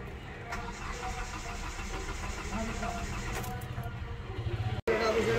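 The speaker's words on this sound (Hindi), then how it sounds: "इसका ये गाड़ी स्टार्ट हो गई हमारी।" A Hyundai Verna diesel with a freshly fitted injector nozzle and replaced ECM cranks with a rapid, rhythmic chugging that builds, then catches and settles into a steady running engine close by, with voices in the background.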